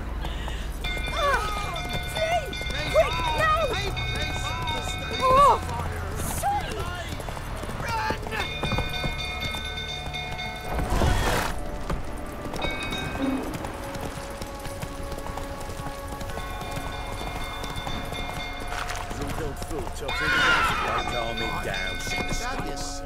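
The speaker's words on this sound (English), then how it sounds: "Whoa there, Roach." Horse hooves clip-clop steadily in The Witcher 3 video game, with occasional snorts or a whinny, mixed under game music, ambience and character speech.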